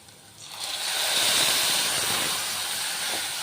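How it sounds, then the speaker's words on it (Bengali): Capsicum is frying in a pan for doi paneer, bursting into a loud, steady sizzling hiss after a brief quiet start, then holding alone. "এরপর আমি দিয়ে দিলাম ক্যাপসিকামগুলো। ক্যাপসিকামটা একটু ভাজবো।"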